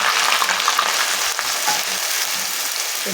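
Onions fry in a pan for achar gosht with a loud, close, steady hiss and sizzle, broken by a few faint stirring scrapes, and no one talks.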